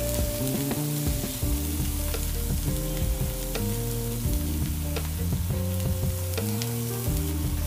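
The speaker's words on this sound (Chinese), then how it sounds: "开翻盖，跟住继续煎，煎到啲芝士脆为止" Parmesan cheese fries in a pan around beef dumplings, a loud, steady sizzle with crackling and occasional clinks of utensils close by, no voices.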